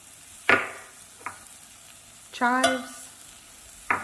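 Parsley, chives, thyme and rosemary stirred into a creamy garlic mushroom sauce in a pan, giving a few short scraping and clinking strokes with a soft sizzle between them, close and fairly quiet.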